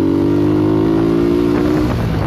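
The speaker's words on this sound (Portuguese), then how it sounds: "Vai pegar o barulho da moto." Motorcycle engine running steadily while riding on a street, a loud, close, continuous drone that eases slightly near the end, with no talk over it.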